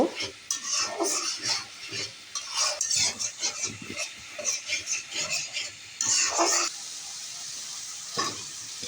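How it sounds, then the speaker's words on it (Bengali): Ground spices with turmeric, chili, coriander powder and salt sizzle and fry in a pan while a utensil stirs and scrapes repeatedly against the metal, close and steady throughout. "এখন মশলাটা ভালো মতো কষিয়ে নেব।"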